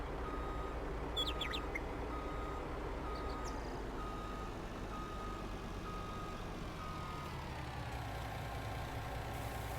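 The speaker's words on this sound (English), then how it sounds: "trying to back in the trailer" Truck reversing beeps sound steadily while backing a trailer in Farming Simulator 19, repeating over a constant idling diesel engine rumble.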